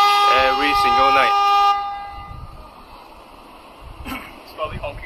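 Horn of a Perodua Myvi car honking at night, a sustained blaring tone for nearly two seconds, then fading to a low background hum with brief muffled noises near the end.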